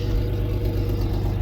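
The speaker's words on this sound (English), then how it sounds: "because the exhaust leaks like a bitch." An Isuzu pickup engine with a leaking exhaust runs steadily at idle, giving a close, constant low rumble with a slight ticking pulse and no change in pitch.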